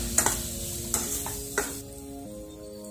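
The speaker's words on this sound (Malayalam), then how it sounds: "ഒന്നും കൂടെ കുഴച്ചെടുക്കാം." A spoon stirs chicken with green chilli, cashews and raisins in a sizzling pan, a few sharp metallic scrapes and clinks against the pan over steady frying hiss, close up with no speech.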